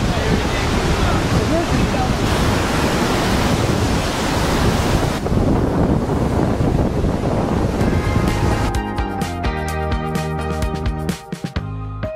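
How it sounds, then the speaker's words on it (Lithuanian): The spray of Lower Yosemite Falls in Yosemite National Park makes a dense, continuous roar close by, with heavy wind buffeting the microphone throughout. "tai toks yra žemutinis Jozimitų krioklys"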